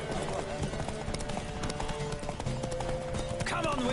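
Horse hooves gallop in a fast, steady clip-clop during a race in the video game Witcher 3: Wild Hunt, under loud shouting voices and background music.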